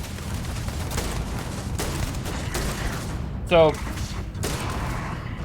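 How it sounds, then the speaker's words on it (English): Scattered gunshots in the video game Starfield, a handful of separate reports spaced a second or so apart over steady game ambience, with a brief sharp mechanical burst in the middle and a voice speaking briefly. "somebody is shooting"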